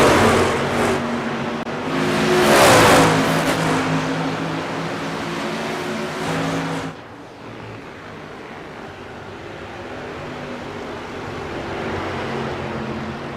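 Race cars lap the Milwaukee Mile oval in the iRacing sim, a steady multi-car engine drone with harmonic whine that swells loudly early on, then eases to a more distant, even hum.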